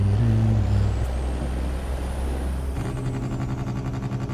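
Kenworth W900 truck mod in American Truck Simulator, a deep idling diesel engine that shifts to a rougher, rhythmic throb, with a brief hiss of air brakes early on and no speech.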